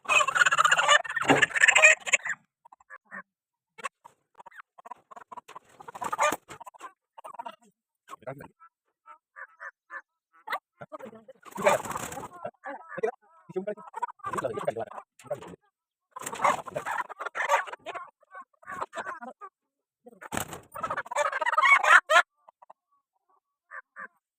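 Chickens in a coop cluck and squawk in short, irregular bursts, close and fairly loud, with a person talking in between.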